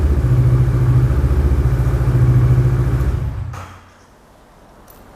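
A Kawasaki Versys 650 motorcycle idles with a steady, throbbing engine note, loud and close, then cuts off after about three seconds. A voice speaks over the engine.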